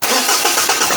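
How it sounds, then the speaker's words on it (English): A Renault K9K 1.5 dCi diesel car engine is cranked and fires, rising quickly into a loud, close, rough clatter with a few uneven pulses as it catches and settles toward idle. "So now we are start our engine"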